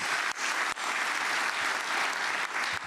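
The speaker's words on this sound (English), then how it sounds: "Big round of applause to all of you." A large audience at a federal service medals ceremony applauds honorees, a dense, even wash of clapping that holds steady at moderate volume with a couple of brief dips.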